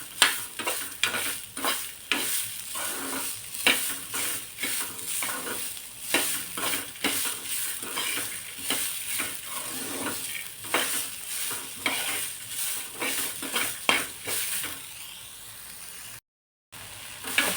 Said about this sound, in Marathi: हे सुद्धा 1-2 मिनिट भाजून घ्यायचे, हलकेसे भाजायचे आपल्याला हे दाणे